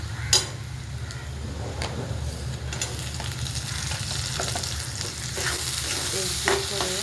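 Chopped tomatoes sizzle and fry in hot oil in a pan while being stirred, with a steady close crackle and occasional scrape and clink of the spoon against the pan, no voices.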